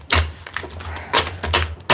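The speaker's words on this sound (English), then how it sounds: "I need to give that a good shuffle." A deck of tarot cards being shuffled, with several quick riffling bursts and soft slaps close by, separated by brief pauses.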